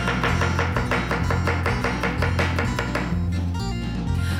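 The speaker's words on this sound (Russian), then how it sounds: "Режем на вот такие вот красивые дольки, четвертинки, потоньше" A knife chops food into thin wedges and quarters for a pie filling, making rapid, evenly spaced taps on a cutting board, loud and close, with no voices.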